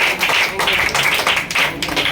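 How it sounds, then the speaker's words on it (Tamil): A crowd of people clapping for a blind community's association at a biryani meal event, steady mid-distance applause with repeated bursts over a couple of seconds, some murmuring mixed in. "மக்கள் அனைவருமே கைத்தட்டுறாங்க."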